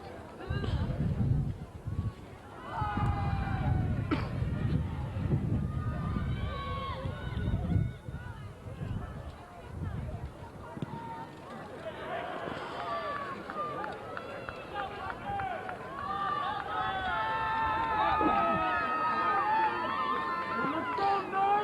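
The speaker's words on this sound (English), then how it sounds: "You can hear that Francis Parker crowd on the other side of the field behind the Francis Parker bench" Loud crowd of Francis Parker supporters cheering and shouting from across the field at a CIF girls soccer game, with a constant roar and voices overlapping throughout.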